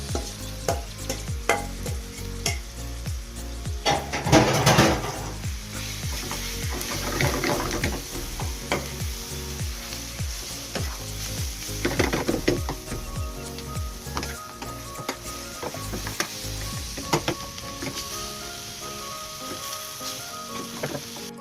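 Brinjal fries in a pan with continuous sizzling and crackling, joined by frequent stirring and scraping clatter, close and steady throughout.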